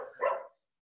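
A single short dog bark rings out at moderate loudness, followed by a brief silence and a tiny faint sound at the end.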